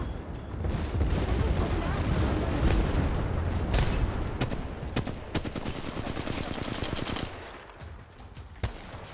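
Rapid automatic gunfire from the Apex Legends Mobile battle royale game rattles in dense bursts, with scattered single shots and impacts trailing off near the end; a voice talks over the shooting.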